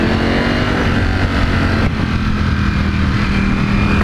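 Ducati Panigale V4S engine roaring under hard acceleration while riding, a loud, steady, close-up drone with wind rush that holds for several seconds with a brief dip midway.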